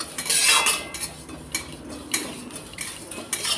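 Bay leaf and whole cumin seeds dry-roasted in a kathkhola pan, stirred with a utensil: close, irregular scraping and metallic clinks with a louder burst early on, no talking.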